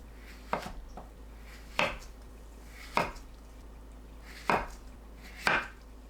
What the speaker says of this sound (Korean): 먹기 전에 한 입 크기로 썰어줍니다.